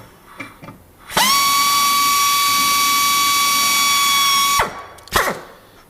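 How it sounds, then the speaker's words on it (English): A power drill spins up sharply to a high, steady whine with a dull bit, running loud and close for about three and a half seconds before winding down, followed by a brief second burst; light handling clatter before it starts. "I will get a drill bit and we'll get the drilling."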